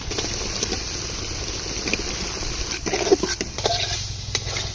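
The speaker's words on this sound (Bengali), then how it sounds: "মশলা কষান হয়েছে আর মাছটা দিয়ে দেয়" Prawns frying in a spiced coconut paste in a village kitchen, giving a steady sizzle with scraping stir strokes and occasional utensil clinks, close by, with no talk.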